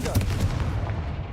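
The Confringo fire spell in Hogwarts Legacy bursts with a short, loud, booming blast whose crackling tail fades over about a second.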